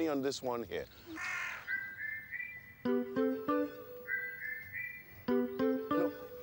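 Birds call from a tree outdoors: a rough caw followed by a run of bright, repeated whistled notes in a steady pattern, with a voice speaking briefly at the start.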